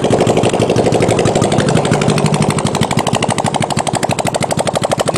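A Honda CB450 engine fitted to a go-kart runs close by, loud and steady, with a rapid, hammering exhaust beat that stays even throughout, with no voices over it.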